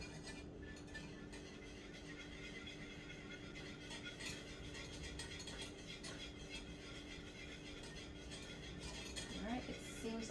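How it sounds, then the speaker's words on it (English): A whisk scrapes and clinks steadily against a pot as a melted chocolate bar is beaten into oat milk hot chocolate, a soft continuous stirring rattle over low kitchen background hum. "Seems like it's nicely melted and it's whisking up pretty good."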